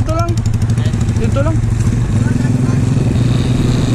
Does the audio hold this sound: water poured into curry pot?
no